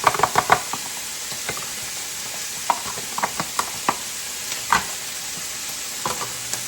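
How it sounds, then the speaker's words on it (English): Chopped onions are dropped into a slow cooker, making a cluster of sharp clunks and rustles, then scattered taps and knocks against the pot over a quiet hiss, without any talk. "Now in the slow cooker, we're going to put these onions."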